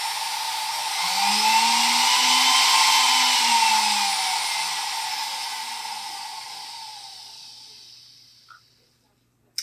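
A MicroLux flex shaft rotary tool, rated 500 to 22,000 rpm, whirs loudly and steadily at high pitch, then winds down as the motor slowly spins to a stop, ending with a faint click.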